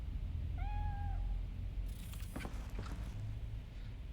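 A cat gives a short, clear rising meow close by against a quiet room hum, followed by a few soft shuffling and tapping noises.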